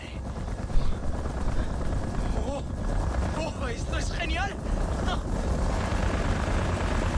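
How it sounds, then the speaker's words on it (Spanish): A helicopter in the video game Far Cry 3 drones with continuous rotor thrum throughout, while voices speak over it mid-mission. "Protege el helicóptero"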